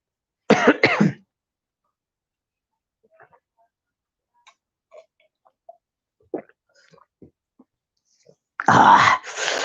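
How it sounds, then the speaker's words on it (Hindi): A sharp burst of coughing, then near-silence with faint scattered clicks, then a second loud coughing fit at the end. "कोरोना के टाइम में खांसने का नहीं फिर खांस लिया"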